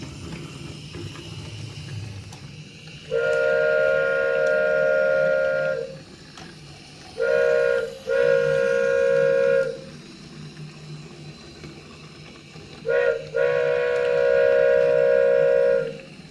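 An IKEA toy train set runs, giving off three stretches of steady, whistle-like tonal sound over a faint low background hum, with brief pauses between them; no one speaks.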